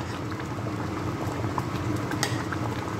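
Oatmeal with chicken boiling in a pot, a steady close bubbling and simmering hiss with small pops, continuous throughout and without talk.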